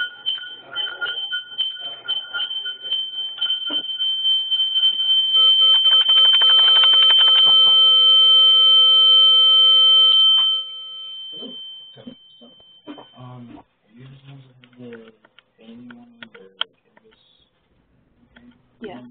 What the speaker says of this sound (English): I don't know if that was your phone, Mel, but just in case